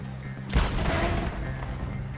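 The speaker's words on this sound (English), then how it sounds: "Ignite or shoot the dynamite" A dynamite blast in Red Dead Redemption 2 lands suddenly as one loud, close, booming burst, then rolls off into a rumbling tail.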